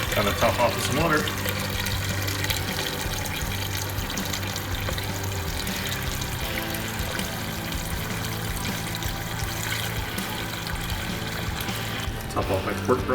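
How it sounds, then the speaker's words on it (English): Water pours steadily into a nearly full pan of homemade pork broth for pho, a continuous splashing stream running throughout at close range. "Top off my pork broth with some water here."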